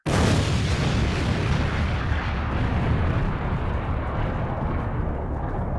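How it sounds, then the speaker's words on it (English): An explosion sound effect plays in a quiz game, one loud booming blast that hits suddenly, then a long rumbling roar that slowly fades, heard alone with no voices. "Tanker is on fire, so Tanker gets an explosion"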